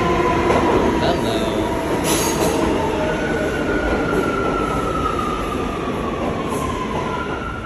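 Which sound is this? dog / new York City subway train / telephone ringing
new York City subway train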